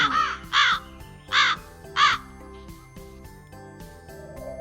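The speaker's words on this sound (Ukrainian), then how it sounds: "сидить на дереві і каркає." A crow caws four times in quick succession, loud and near, over a quiet plucked musical backing that continues alone afterward.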